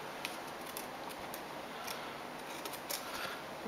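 Small detail scissors snipping through cardstock during card making, a run of quick close crisp cuts at an irregular pace over a steady faint background hiss, no talking.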